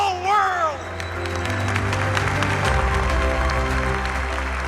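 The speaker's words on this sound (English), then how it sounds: "A round of applause for the whole world." A large banquet crowd at a gala gathering applauds after being asked to rise, a dense, steady wash of clapping with a voice and music heard at the start.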